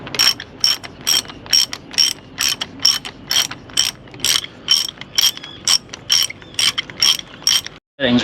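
A hand ratchet snugs down the fuel injector bolts on an Evinrude E-TEC outboard engine, giving a fast, close run of about fifteen crisp clicking bursts in an even back-and-forth rhythm, then a brief stop.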